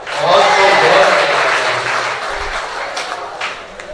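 Audience applause at a college mushaira poetry gathering, a dense, loud wash of clapping that fades slightly toward the end.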